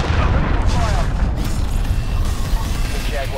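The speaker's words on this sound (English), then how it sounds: "Enemy cruise missile incoming." A cruise missile explodes in Call of Duty: Modern Warfare (2019) team deathmatch, a loud sustained rumbling boom that fills the whole stretch, with a radio-style voice calling out over it.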